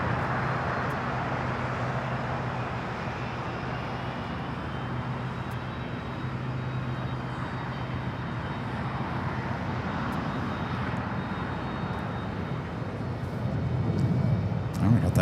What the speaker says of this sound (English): Here we have Korean Air Flight 18 today on the 777-300ER taking off to Seoul.